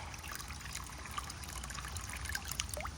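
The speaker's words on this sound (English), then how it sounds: "So I'm going to add a little water to this one" Water trickling and pouring into a plant nutrient mix for an outdoor grow, a soft, steady splashing and gurgling stream, fairly quiet and close, with no talking.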